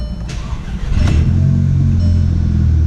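Engine of a VW GTI MK6 with a newly installed Clutch Masters FX350 clutch cranks and catches, then settles into a loud steady rumble close by, without voices.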